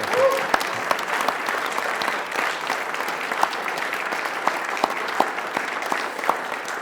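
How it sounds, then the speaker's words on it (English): A room full of people applauds the kitchen staff, with dense, sustained clapping that stays loud and even throughout, sharp individual claps poking out of the crowd sound. "can we get a round of applause for the kitchen staff as well?"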